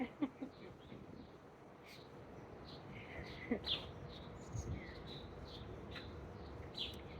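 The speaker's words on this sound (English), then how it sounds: "I see the birds chirping. I hear them chirp" Small birds chirp outdoors in scattered, brief high calls against a quiet background hum, faint and spread across the stretch with a few louder tweets in between.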